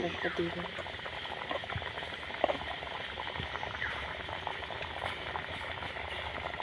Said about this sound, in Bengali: জলটা কিরকম ফুটতেছে দেখুন